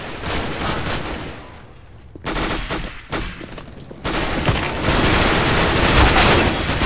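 Rapid gunfire from the video game CS:GO Arms Race, loud dense automatic bursts that pause briefly around the two- and four-second marks, then resume as a steady, heavy stream of shots.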